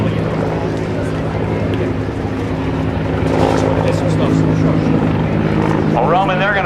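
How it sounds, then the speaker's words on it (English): An MH-53 helicopter's steady rotor drone and engine whine fill the scene at a 2010 NAS Oceana airshow, growing slightly louder as it passes overhead, with voices faintly under the noise. "we have the MH-53 helicopter over top once again"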